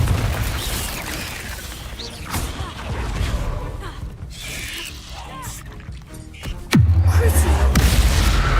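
Spell explosions and magical impacts crash through a fight in Hogwarts Legacy, with bursts and a rumbling hit, then a sudden deep boom near the end that lingers as a low, loud drone.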